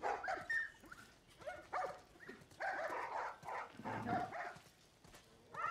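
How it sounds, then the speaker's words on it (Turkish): Dogs barking in The Last of Us Part 1, a cluster of sharp yelps and barks in irregular bursts with brief whimpers between, moderately loud with several animals overlapping and no speech. "Köpeklere bak bak."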